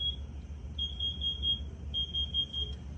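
A Kidde Nighthawk KN-COPP3 carbon monoxide alarm sounds in two quick runs of rapid shrill beeps separated by a short pause, clear above a low steady hum.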